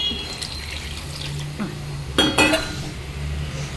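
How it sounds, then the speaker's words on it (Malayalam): Kudampuli soaking water is poured into a Kerala-style mackerel curry pot, a brief splashing pour among light clinks of utensils and vessels. "എന്നിട്ട് ആ വെള്ളവും നമുക്കതിൽ ഒഴിച്ചു കൊടുക്കാം."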